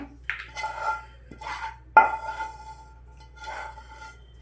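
Sesame and jaggery chikki mixture tipped from a pan into an oiled metal plate, heard as a handful of metallic scrapes and clinks from a spatula against the plate, close and fairly soft, no voices.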